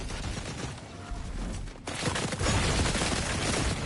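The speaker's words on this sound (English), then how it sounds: "we're getting bullets spit down us from above" Sustained gunfire rains down from above in a video game, a dense continuous crackle of rapid shots that grows louder and heavier partway through, with no talk over it.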